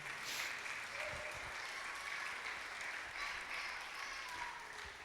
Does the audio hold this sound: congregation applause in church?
yes